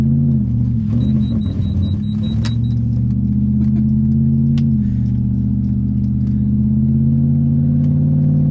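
An older Lexus luxury car drives through snow, its engine a steady loud rumble that rises and settles as it accelerates, with brief high ticks and a faint electronic tone early on, no talking.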